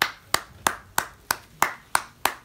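One person claps hands slowly and steadily, eight sharp claps at even intervals, close and clear with no voices.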